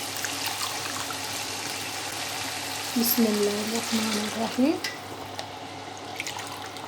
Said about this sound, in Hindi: 2 गिलास ही मैं इसमें पानी डालूँगी